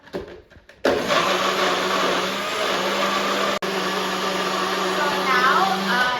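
A countertop blender whirs loudly and steadily through frozen strawberries and pineapple for a smoothie. It starts abruptly after a brief lead-in, drops out for an instant, then resumes and runs on at full power.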